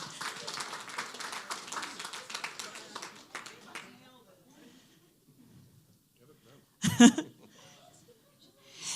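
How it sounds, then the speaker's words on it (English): Audience at a business talk gives a burst of applause and scattered clapping that fades after a few seconds, followed by quiet room sounds and a brief clap near the end. "Give yourself a round of applause, take a seat."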